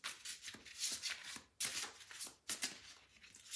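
A deck of tarot cards is shuffled by hand in a quiet room, giving soft papery riffles in several bursts with brief pauses between them and no voices.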